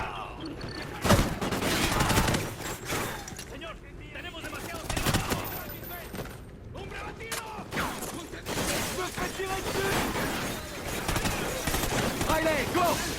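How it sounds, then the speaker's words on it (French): Gunfire in the video game Call of Duty Ghosts, rapid bursts and scattered shots with sharp cracks and impacts spread through the clip, mixed with game effects and voices talking over the action. "Attends, Riley, s'il attaque la cible, tire pour tuer."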